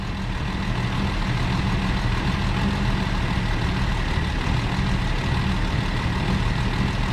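A ZIL-157 truck engine idles while warming up during restoration work, a steady, loud low rumble that holds constant throughout with no one talking.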